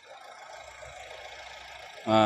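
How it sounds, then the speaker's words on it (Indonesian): A quiet engine idles with a low, even hum, then a louder burst of other noise cuts in at the very end. "Dan kita dengarkan suara mesin."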